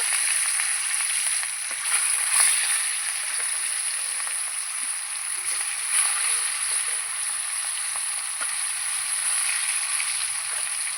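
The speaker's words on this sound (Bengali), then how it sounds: "এই মাছগুলো ভাজা হতে থাক এই মাছগুলো উল্টে দেবো" Pieces of fish sizzle in hot oil in a pan, a continuous bright crackling hiss heard close and alone, with faint occasional pops and taps.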